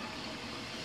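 Water runs steadily from a sink tap in a 1960s North Dallas house under remodel, a continuous close rushing with no pauses.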